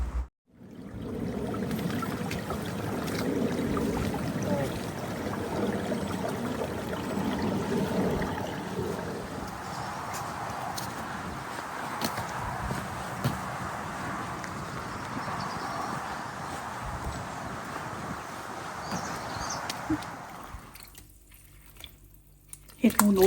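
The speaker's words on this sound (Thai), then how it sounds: "เก็บมาแล้วก็สิ เอามาล้างน้ำก่อนสินำไปตากแห้งแล้วจ้ะ" Foraged wood ear mushrooms being washed by hand in water, with a continuous close sloshing and dripping for about twenty seconds that falls quiet near the end, while someone talks over it.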